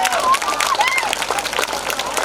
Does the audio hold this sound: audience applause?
yes